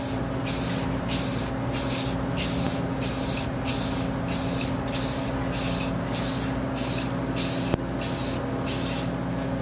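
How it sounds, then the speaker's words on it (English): Rust-Oleum gloss black spray paint hissing from an aerosol can in a steady, close, loud burst that carries through the whole stretch, with faint regular pulses in the upper hiss and no talking. "Make sure your paint is shook up very well. Test spray."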